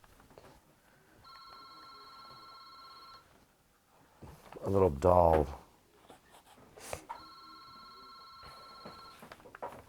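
An old-fashioned telephone bell rings in two bursts separated by a loud stretch of talk and music-like tones, with voices speaking over the quieter background.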